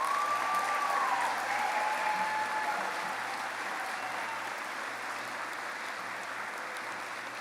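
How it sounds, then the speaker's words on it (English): A large crowd at a 2023 high school graduation ceremony applauds the graduates, sustained dense clapping at steady volume throughout, with a faint tone drifting over it early on. "How about another round of applause for our graduates?"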